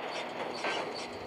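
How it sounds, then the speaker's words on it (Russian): Train passing in a Roblox video game, a brief rumbling rush of rail noise with a rising swell midway, moderately quiet and without speech. "Поезд."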